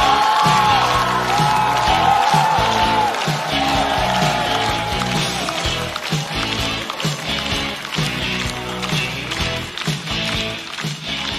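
Loud crowd noise fills a comedy talk-show stage as two performers, the duo Rou Shi Dong Wu, are welcomed, with broadband applause and cheering layered over upbeat entrance music and steady rhythmic beats throughout.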